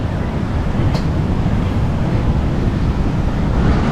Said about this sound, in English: Think about the waves here in Kata.